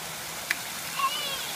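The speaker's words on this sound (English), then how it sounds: "Go put your feet under the waterfall." Water of a park waterfall splashing in a steady broadband rush, with a child's faint squeak and a brief tap over the continuous flow.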